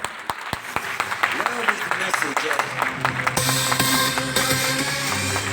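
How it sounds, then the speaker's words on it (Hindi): Loud applause for a man named Anand at a Jabalpur event breaks out in sharp claps that swell into a dense, sustained roar, with music joining partway through and voices underneath. "जोरदार तालियां दोस्तों आनंद सर के लिए।"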